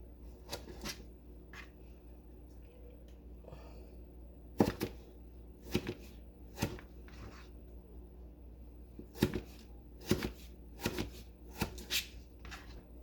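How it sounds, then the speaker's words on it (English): A knife chops tomato into small dice on a cutting board, a quick run of crisp taps in irregular bursts, close and clear with no talk over it. "all you do is just chop it into bite-sized pieces"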